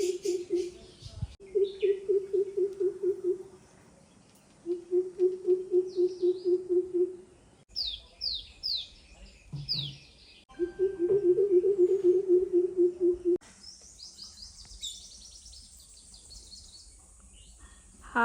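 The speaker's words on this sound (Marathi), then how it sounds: "आहे भारद्वाज पक्षी" A greater coucal's deep, booming hoots repeat in long rhythmic runs, with higher bird chirps and whistles scattered around them and some voices at moments.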